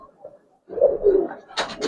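Giribaz racing and high-flyer pigeons coo in a few soft, low, throaty phrases, close by, with a brief silent gap before the calls resume more strongly.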